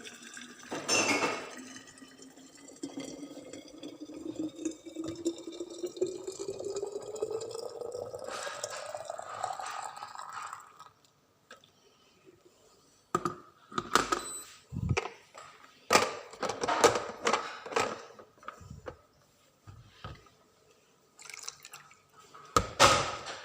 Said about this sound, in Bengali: এই যে এখন আমি গরম পানি করে নিলাম, গরম পানিটা এক্সট্রা দিয়ে দেব এখানে।